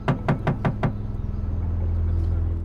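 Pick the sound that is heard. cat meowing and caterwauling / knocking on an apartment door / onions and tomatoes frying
knocking on an apartment door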